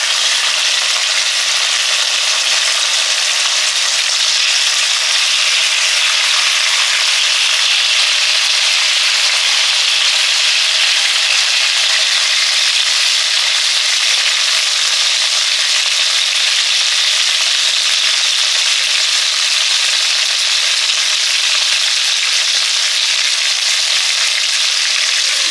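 Tomatoes fry in a pan, giving a loud, dense and unbroken sizzling hiss for the whole stretch. Any stirring is buried in the frying noise. No voices are heard.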